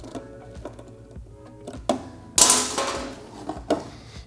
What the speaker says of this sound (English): I'm going to use a 4mm Allen from the outside and a 10mm box wrench from the inside.